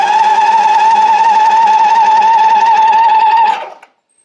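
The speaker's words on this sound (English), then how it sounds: "I dare say that's the first time this engine is cranked over in 30 years or more" An old engine that has not run in about 34 years is cranked by its starter through a jumper wire on the solenoid, giving a loud, steady, whirring drone for about three and a half seconds before it abruptly winds down and stops.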